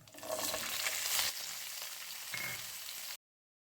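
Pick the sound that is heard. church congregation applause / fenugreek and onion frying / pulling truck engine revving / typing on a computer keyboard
fenugreek and onion frying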